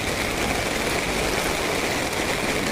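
Heavy torrential downpour over the streets of Chittagong city near Karampara, a dense, unbroken roar of rain hitting surfaces and running water, steady and loud throughout.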